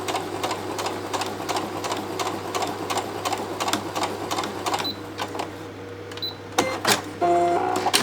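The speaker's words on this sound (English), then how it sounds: "So you just put it over there and you sew it. Straight stitch, 1/4 inch seam allowance." A sewing machine straight-stitches a quarter-inch seam on a hessian coaster, a steady rapid mechanical chatter close by that slows, then breaks into a few separate clicks near the end.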